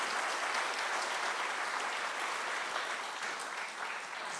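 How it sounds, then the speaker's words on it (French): Audience applause at a film screening followed by testimonies, a steady, dense burst of clapping from a crowd filling the space evenly for several seconds, no talk over it. "On l'applaudit."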